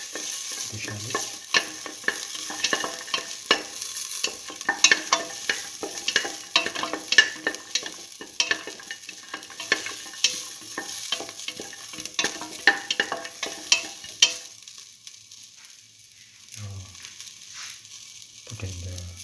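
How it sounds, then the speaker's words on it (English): Shallots, garlic and salt frying and being stirred in a pan for an okra potato stew, a steady close sizzle broken by scraping stir strokes, with a few low knocks near the end. "let the shallots fry for some time. Now put in the garlic, salt,"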